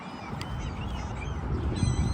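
Birds calling near a ferry around Brooklyn and Manhattan in New York City: honking, quacking-type calls scattered over a constant loud roar of wind and engine noise.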